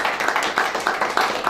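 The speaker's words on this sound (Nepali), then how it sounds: "एउटा राउन्ड अफ अप्लाज एउटा ताली दिनु प्लिज" An audience at an organizers' event claps briefly with a rhythm of sharp hand claps in quick bursts, moderately loud and close, with faint background voices.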